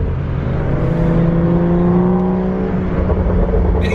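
A 2016 BMW 435i ZHP engine revs steadily, its rising and falling tone droning loud and close throughout with no talking.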